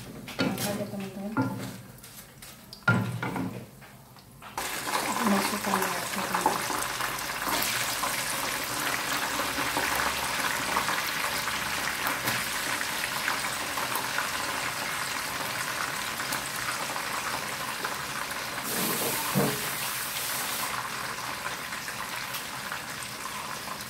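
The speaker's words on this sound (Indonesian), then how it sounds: "Goreng sampai matang ya teman-teman." Sliced taro chips fry in hot oil with a steady, broad sizzling hiss that holds for many seconds, after a few brief clatters at the start, and a voice talks faintly over it.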